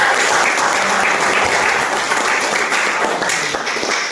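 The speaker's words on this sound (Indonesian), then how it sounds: "kita berikan aplaus kepada" Sustained applause from a classroom counseling-training audience, a steady wash of many hands clapping at even loudness throughout, close and unbroken, fading slightly at the end.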